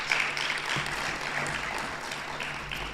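Conference audience applause for Minister Simmons: a broad, even patter of many hands clapping, moderately loud and continuous, with a faint hum underneath.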